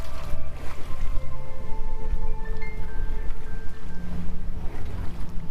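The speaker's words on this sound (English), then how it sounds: "The boat picks up speed, the sails tightening as the wind catches them fully." A sailing boat glides over open water with a steady, rushing wash and soft wind. Sustained soft tones hum beneath the constant, even surge of the hull moving through the sea.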